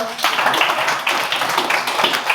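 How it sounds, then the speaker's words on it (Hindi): An audience at a spiritual lecture claps hands together in a dense, continuous patter that lasts throughout and fills the room, with a voice heard over it. "ताली बजाओ सब लोग, ताली बजाओ"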